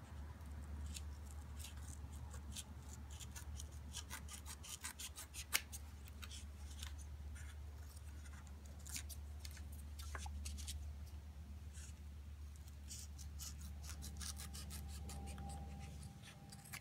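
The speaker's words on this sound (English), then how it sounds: "that's still too much, so I'm going to keep cutting." Scissors snip repeatedly through padding material being trimmed down for DIY knee pads in a 2016 Camaro, giving a faint, steady series of close crisp cuts over a low hum.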